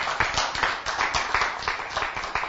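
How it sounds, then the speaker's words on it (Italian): A small audience claps at a cycling race event in the Veneto, a steady patter of handclaps that is fairly close and continuous, with some faint voices mixed in. "fate un applauso, però fatelo"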